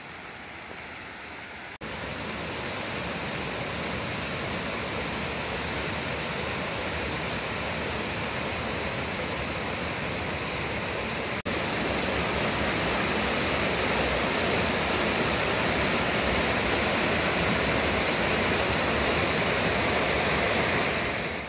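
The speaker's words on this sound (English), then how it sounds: "I'm back at the Rylander Cascades" Rylander Cascades waterfall in Tennessee at high water roars as a dense, steady rush of falling water, loud and continuous throughout, with no voices.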